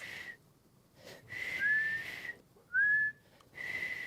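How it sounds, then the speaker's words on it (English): A man whistles a sustained steady tone, breaking into several held notes with quick rising slides between them, loud and close with short silent gaps separating each whistle. "I can do like a bunch of whistles."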